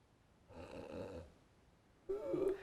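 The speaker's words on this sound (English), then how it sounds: "Try not to snore." A person snoring in two slow breaths, a drawn-out rasping inhale followed after a pause by a louder, buzzing snore, close and fairly quiet with no other sounds.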